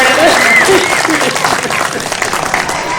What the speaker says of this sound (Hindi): तो बजाइए तालियां ताकि आगे बढ़े।